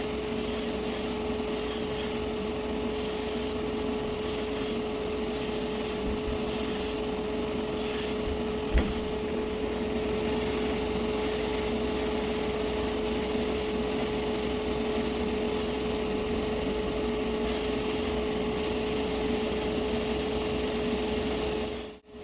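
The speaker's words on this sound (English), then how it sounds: "now I'm giving it the final wet coat to bring out the exact color" An airbrush lays a final wet paint coat on a scale-model Liberty Walk Toyota 86 body, with a steady compressor hum underneath and repeated short spray bursts, close and continuous throughout.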